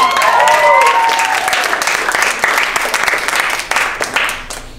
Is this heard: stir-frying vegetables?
no